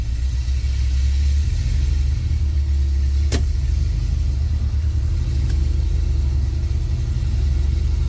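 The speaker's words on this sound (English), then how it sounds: "Turn the key, and away we go." A fuel-injected engine in a 1970 Chevrolet Nova restomod starts with a brief crank and catches, then settles into a steady, loud, rumbling idle that holds close and unbroken throughout.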